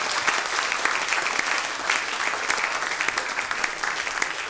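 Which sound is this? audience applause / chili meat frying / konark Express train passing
audience applause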